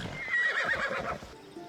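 A horse in the Assassin's Creed Odyssey video game gives a short, close neigh, a quick rising and falling whinny lasting about a second, with soft hoof-like thuds beneath and no talking.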